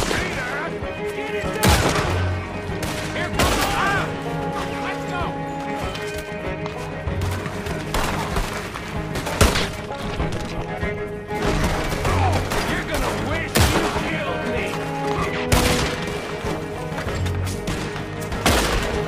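Gunshots ring out in the Western game Red Dead Redemption 2, several sharp reports scattered over a busy soundscape of music, horse hooves and ambient noise that never lets up.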